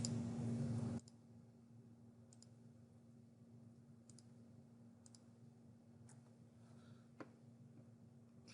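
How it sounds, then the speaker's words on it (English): Computer mouse clicks, about six sharp, faint clicks spaced roughly a second apart in a quiet room, with a low steady hum underneath and no talking. "hold Control and click on individual features"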